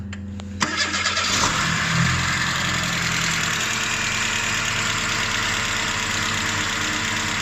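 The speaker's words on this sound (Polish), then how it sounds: "ten samochód wydaje e, dziwne dźwięki tutaj przy silniku" A car engine cranks and starts, then idles steadily with a rough, rhythmic scraping noise from the engine area running underneath, close by.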